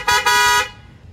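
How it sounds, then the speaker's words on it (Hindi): Two quick loud blasts from a train-style horn fitted on a Yamaha R15 V2 motorcycle, the second held a bit longer, bright and brassy, then a fade into quiet. "अब ट्रेन का हॉर्न लग रहा है"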